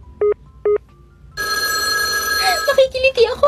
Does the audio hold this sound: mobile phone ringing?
yes